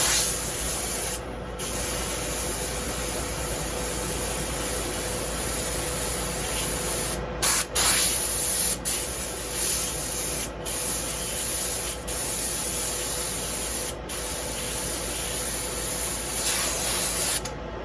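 An airbrush sprays paint onto a beach scene in a steady, close hiss that runs almost unbroken, with a few brief pauses where the trigger is released.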